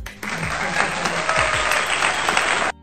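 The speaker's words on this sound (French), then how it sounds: "Tu peux applaudir s'il vous plaît." A small group applauds during a French truth-or-drink game session, a dense burst of clapping that runs steadily for a couple of seconds and then cuts off abruptly.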